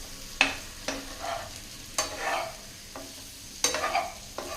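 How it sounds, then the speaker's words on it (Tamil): Cut idli pieces being stirred into horse gram masala in a pan, a series of irregular scraping strokes of a spatula against the pan with a soft sizzle between them. "இப்போ சேர்த்திட்டு நல்லா கலந்து விட்டுறலாங்க."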